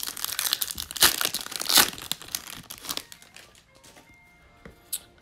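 A Topps Stadium Club cello pack wrapper is torn open with loud, close crinkling and tearing that trails off into faint rustling and a final soft crackle.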